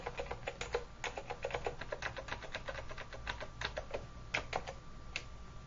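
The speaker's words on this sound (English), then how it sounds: "we'll go in and we'll type in something like" Rapid, irregular clicking of computer keyboard keys as text is entered in the Emacs editor, with steady keystrokes and occasional louder key hits over a low background hum.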